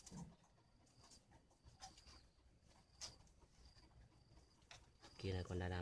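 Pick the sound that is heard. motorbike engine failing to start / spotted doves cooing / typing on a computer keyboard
spotted doves cooing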